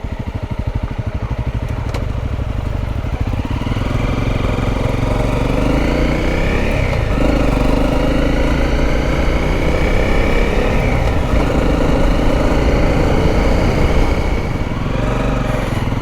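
Honda CRF motorcycles ride on a Balkan adventure tour in North Macedonia, their engines droning loud and steady throughout with shifting pitch as they change speed, no talk over them.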